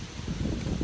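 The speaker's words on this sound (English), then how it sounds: "And it's windy, by the way." Wind gusts across an outdoor microphone, a steady low rumbling buffet that fills the whole moment with no pauses.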